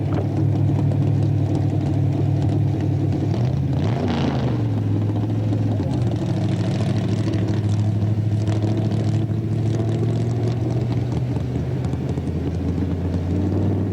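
A race car powered by a 1966 Chrysler Hemi 426 runs at Bonneville Speedweek, its engine droning steadily with a shifting pitch around the middle, while an announcer talks over it.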